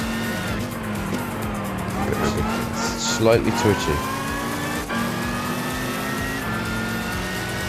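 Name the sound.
American V8 race car engine in the video game Gran Turismo 5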